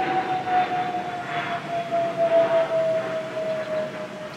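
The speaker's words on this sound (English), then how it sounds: "okay, airplane." An airplane passes overhead, a steady droning roar with a sustained engine tone that swells and fades slightly over several seconds, heard fairly close with no talking.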